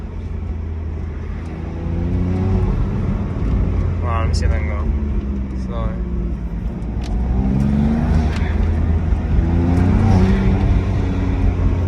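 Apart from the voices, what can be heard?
car engine with new front mount intakes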